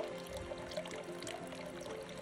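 A trail stream on the Appalachian Trail runs and trickles where water bottles are refilled, a steady, faint pouring and splashing flow with no talk.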